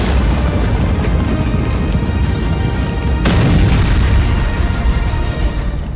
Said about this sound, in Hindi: धमाके भी ऐसे कि लगा सीज फायर टूट गया